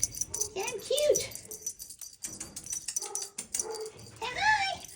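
Dogs bark and whine close by in a home, with repeated yips and whimpers rising and falling throughout, mixed with talking voices.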